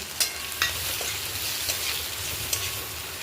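Cumin, coriander, turmeric and Kashmiri chilli powders sauté in a pan for a fish-head and ash gourd dish, making a dense, close sizzle with a few sharp scraping strokes from stirring and no voices.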